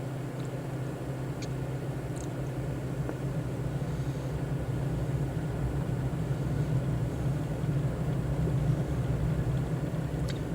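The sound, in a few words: airplane at full power taking off in Microsoft Flight Simulator video game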